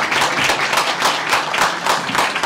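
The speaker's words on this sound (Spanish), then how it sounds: "Pido un fuerte aplauso para su presidente, Pepe Pérez, que siempre está al pie del cañ" A crowd applauds at a traditional carnival dance in Telde, with dense, steady clapping that holds at an even level for the whole stretch, with no voices on top.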